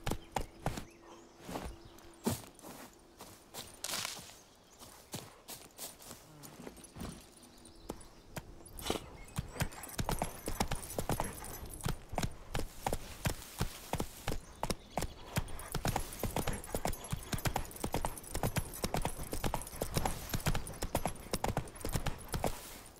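The horse Roach gallops in The Witcher 3 video game, hooves thudding in a fast, steady rhythm after a slower walking start, close and prominent with a faint voice in the background.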